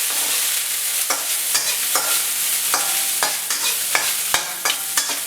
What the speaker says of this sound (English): Now we just want to get the flavor into the oils here.